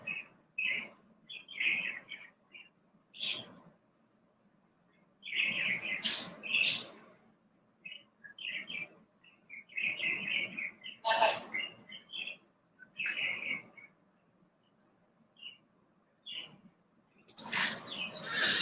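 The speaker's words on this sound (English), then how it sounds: "Bird way over my head." Small birds chirp and tweet from high overhead in short scattered bursts, fairly faint and airy, with long quiet gaps between calls.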